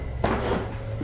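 A door is pushed open or shut with a sharp knock at the start, then a short scraping, rustling tail in a quiet room.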